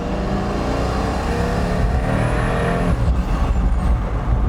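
Pagani Huayra Roadster supercar pulling away gently on part throttle through Monaco streets, a steady close engine drone rising smoothly with no talk.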